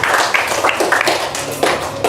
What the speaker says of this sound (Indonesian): Mari kita tepuk tangan untuk kita semua.